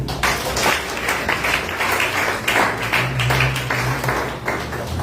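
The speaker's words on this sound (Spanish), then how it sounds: "Pero un aplauso al Señor." Applause from a church congregation during a sermon, steady dense clapping throughout with some low hum beneath.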